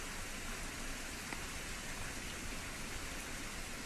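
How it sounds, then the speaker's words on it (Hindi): Steady rain falling in Haridwar, India, a dense even hiss of drops that holds at the same level throughout with no voices. "इस मौसम में बारिश हो रही है"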